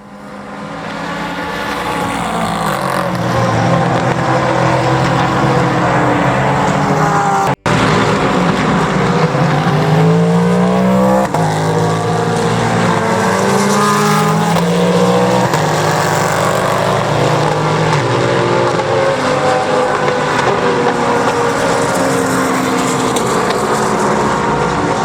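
Sports racing cars at night during the Rolex 24 at Daytona, heard from near the infield: a continuous roar of engines passing and revving on the track, loud and sustained throughout with shifting pitches as cars come and go.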